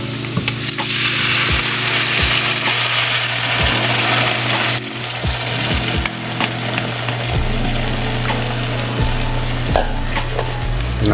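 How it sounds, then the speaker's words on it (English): Marinara sauce being stirred into onions in a hot pan, with a loud continuous sizzle and frying crackle and repeated scraping and clinking stirring strokes close by. "And I'm going to stir that all in together."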